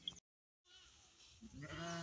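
A flock of sheep runs out to graze in a cotton field, with faint, distant bleats and a scuffling rush after a brief silence. The sound swells toward the end.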